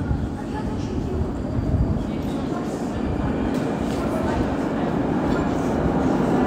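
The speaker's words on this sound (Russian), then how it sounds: "Прибывает ретро-поезд." A retro metro train rumbles loudly and steadily as it pulls into a station, with a deep continuous roar and faint rail clatter.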